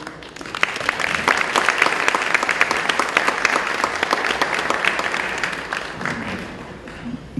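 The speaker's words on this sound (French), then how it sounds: "Mesdames et messieurs, aidez-nous chaudement à applaudir le Père Émile Cyprien de Spring Valley" A church or event audience applauds warmly, a dense, sustained wash of clapping that swells quickly and holds for several seconds before tapering toward the end.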